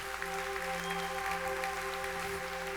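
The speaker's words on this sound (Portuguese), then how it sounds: "pode dar uma salva de palmas" A church congregation claps during a sermon, a continuous, even burst of applause over a steady sustained tone in the background.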